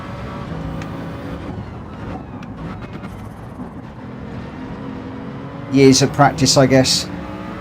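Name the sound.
Bugatti Veyron car engine in the video game Gran Turismo 7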